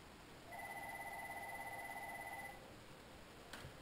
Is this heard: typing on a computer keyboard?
no